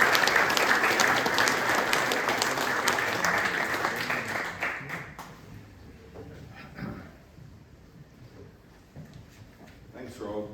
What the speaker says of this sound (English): We put our hands together to welcome.